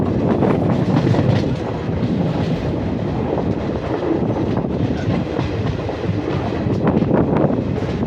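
Krishna Express passenger train, number 17405, running on rails near Medchal on the Secunderabad to Adilabad route, heard from inside as a steady loud rumble with rhythmic wheel clatter throughout.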